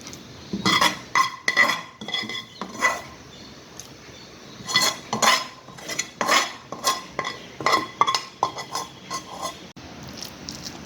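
Ghee-greased plate receives kalakand mixture being spread out, with repeated clinks and scrapes of a metal spoon against the plate in short uneven bursts, close and fairly loud, with no talking.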